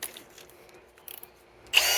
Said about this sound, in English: So now I have a slightly larger drill bit. So I'm going to go with a slightly bigger hole.